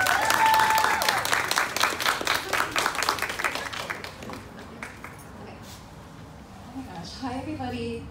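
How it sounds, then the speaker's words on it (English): Audience applause for a stand-up comedian, a crowd clapping loudly at first and then tapering off over several seconds as a voice begins speaking near the end. "Please give her a round of applause."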